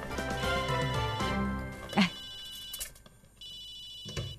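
A mobile phone ringtone plays as a melodic electronic tune, then cuts off and fades to quiet with faint room noise and small clicks.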